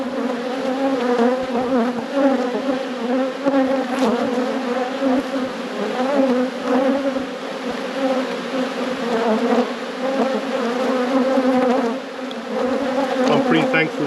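Honeybees buzzing around an open hive during a robbing event, a dense, loud, continuous drone of many insects close by, steady throughout.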